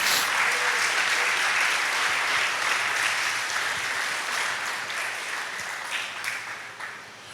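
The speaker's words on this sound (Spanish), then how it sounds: "Vamos a darle un buen aplauso al Señor." Church congregation applauds in one dense, sustained wave of clapping that fills the room evenly and fades slightly near the end.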